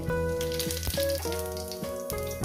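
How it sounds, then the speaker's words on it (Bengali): Whole garam masala spices sizzle in hot oil for a few seconds while a sardine fish curry is being cooked, a dense crackling fry heard beneath prominent background music. "গোটা গরম মশলা কয়েক সেকেন্ড ভেজে নেব"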